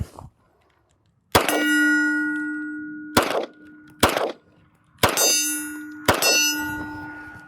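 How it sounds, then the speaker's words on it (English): Sig X-Five Legion pistol firing five rounds at steel targets outdoors, each sharp shot followed by a ringing metallic clang, spaced irregularly over several seconds, loud and close with no talk. "And I'll fire another 5 rounds."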